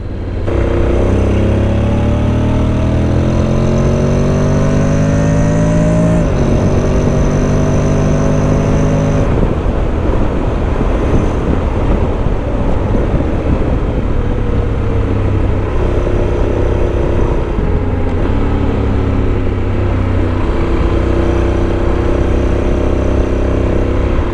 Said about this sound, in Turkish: hem virajları hem motorun sesini de dinleyin istiyorum